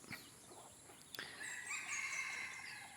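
Roosters and chickens crow and cluck outdoors near a rubber plantation forest, one long crow rising clearly over scattered clucks and background bird noise, moderately distant.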